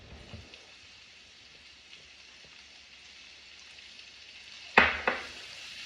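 Chorizo and shallot sizzle quietly in olive oil in a pan, a soft steady crackle with a couple of sharp pan clatters near the end as they are stirred.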